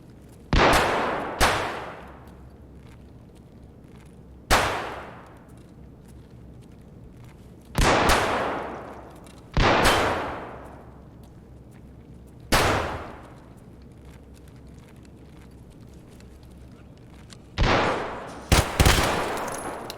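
Gunfire in Escape from Tarkov: about nine loud, sharp single and double shots spaced irregularly across the stretch, each ringing out with a long echoing tail, some in quick pairs near the end, with no talking.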